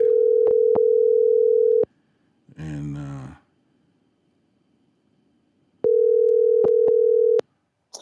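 Steady telephone dial tone while placing a call, sounding loud and continuous for about two seconds, then again later after a brief groan-like voice, with a few clicks breaking the tone.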